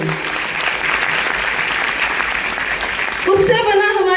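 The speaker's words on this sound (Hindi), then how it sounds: "गेनेटोन के लिए जोरदार ताली होना चाहिए।" A crowd at a DXN product presentation in Uttar Pradesh applauds, with dense, steady clapping for about three seconds before a voice begins speaking over the end.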